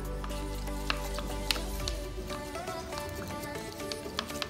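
Water being stirred into a clear glue slime mixture from a cheap slime kit, giving a continuous wet, squishing swirl with small clicks of the stirrer, close and moderately loud.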